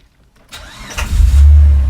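A 2004 Mitsubishi Pajero with a GDI engine cranks briefly and catches, then settles into a loud, low, steady idle rumble at close range.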